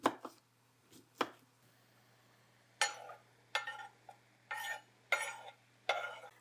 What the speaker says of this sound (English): we're going to add it to the ground beef and start softening down the onion while the ground beef is